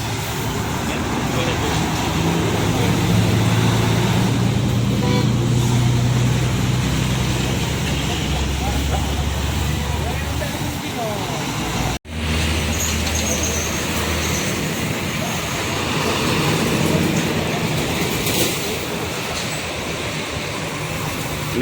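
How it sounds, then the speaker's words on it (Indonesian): Continuous roar of heavy road traffic with a Medan–Jakarta intercity bus rumbling past, low engine drone rising and fading, and a brief cut midway. "Ada bus BKL."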